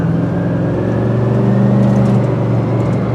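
A loud steady mechanical whine from a Ford F-150 pickup's transfer case over a rumbling engine inside the moving truck, constant and droning throughout.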